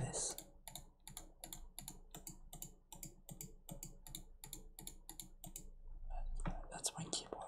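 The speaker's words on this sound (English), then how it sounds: "That's my keyboard." Rapid clicking keystrokes on a computer keyboard in a quiet room, closely miked and crisp, in irregular bursts of taps with a soft whispering voice near the end.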